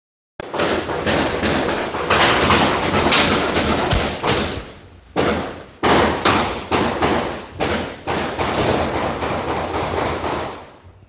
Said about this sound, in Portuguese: Ouça este áudio do tiroteio gravado no momento do ocorrido.